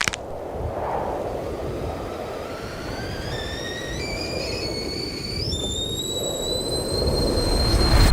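A conveyor-style food delivery train runs through a sushi restaurant, giving a steady rumbling roll with rising whistling squeals. It builds louder toward the end, with no talk over it.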